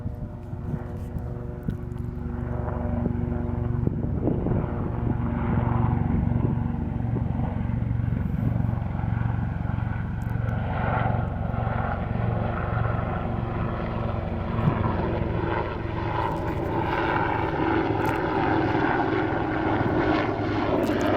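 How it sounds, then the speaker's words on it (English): A helicopter passes overhead at a beach near midday, a loud, sustained rotor and engine drone that holds steady for about twenty seconds with faint wind and surf underneath. "there's a helicopter going above me right now"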